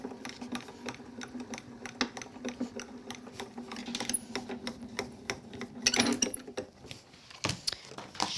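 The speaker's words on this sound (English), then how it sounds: "Run that through our grand caliper." A Grand Calibur die-cutting machine is hand-cranked while paper card stock passes through, giving a steady rapid mechanical clatter of gears and rollers, close and continuous, with a louder grinding surge near the end and no speech.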